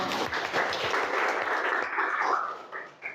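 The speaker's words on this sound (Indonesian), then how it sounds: "Iya, tepuk tangan atuh." Applause from a classroom of students during a lesson on the sine rule, a dense burst of clapping lasting about three seconds before tapering off near the end.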